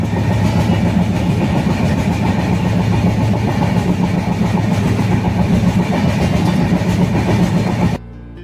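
A train rumbles and clatters at a station on a trip back from Tirumala. The sound is loud, dense and steady, with rhythmic rattling, and cuts off abruptly near the end.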